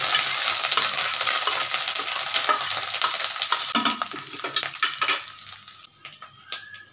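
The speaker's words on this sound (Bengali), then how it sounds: "এবার আমি নাড়তে থাকবো, নাহলে না পুড়ে যাবে" Grated coconut with cardamom fries in mustard oil over low gas in a pan, stirred continuously with a utensil; a dense close sizzle with repeated scraping strokes, thinning out into sparse scrapes and clinks toward the end.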